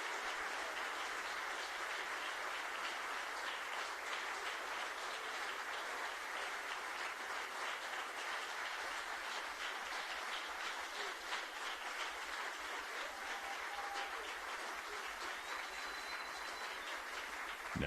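Audience applause for a school choir from Luxembourg at an awards ceremony, steady sustained clapping from a large crowd, fairly distant and even throughout with no speech.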